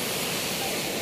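Mountain water pours down at an outdoor bathing spot, a steady, close, full rushing roar that holds unbroken throughout.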